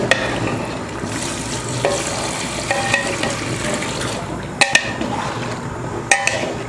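Water pours into a pan of simmering chicken gravy, with bubbling, sizzling and a few sharp clinks of a utensil against the pot.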